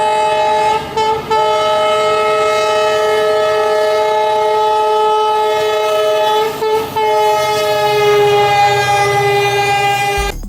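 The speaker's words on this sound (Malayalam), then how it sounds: "അത് തന്നെ ട്രെയിനിൻ്റെ ആ ഒരു ഹോൺ തന്നെ" A train sounds its horn loudly and close by in a long, sustained multi-tone blast, breaking briefly twice before continuing, as rumbling wheels roll beneath it.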